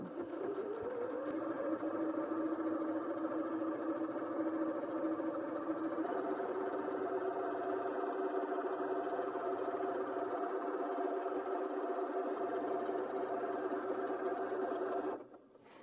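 A Janome M200QDC sewing machine stitches steadily, its motor hum rising slightly in pitch as it settles into an even run, close and continuous until it stops at the end.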